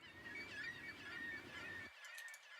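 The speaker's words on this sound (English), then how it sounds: "A bird sound effect." A bird sound effect in a melodic progressive house track gives a warbling, goose-like chirp that repeats over a low bed of sound, then the low end cuts off abruptly and brief tones finish the clip.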